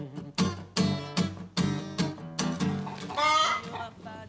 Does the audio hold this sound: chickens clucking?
yes